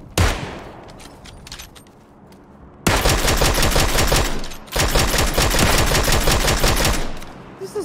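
Rapid automatic gunfire from hip firing in PUBG, one short burst and then two long sustained bursts of closely spaced shots, loud and close.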